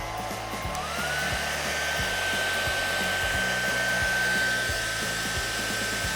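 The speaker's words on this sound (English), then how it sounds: "If I take a hairdryer and a ping pong ball, let's see what happens." A hair dryer blows continuously with a steady whirring hiss and a high whine, loud and close, suspending a ping pong ball in its airflow, with no voices.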